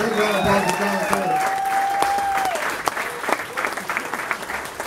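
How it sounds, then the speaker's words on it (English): Audience applause at a walking stick auction, clapping loudly at first and thinning into scattered claps toward the end, with voices mixed in. "Big round of applause for John Miller."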